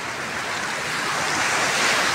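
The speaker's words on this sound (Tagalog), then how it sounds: "Laki ng alon." Big sea waves crash and wash against a beach, a loud, unbroken roar of surf that swells slightly toward the end with no voices.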